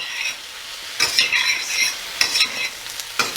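Vegetables stirred in a sizzling pan, with bursts of scraping and rustling strokes over a steady frying hiss, close and fairly loud.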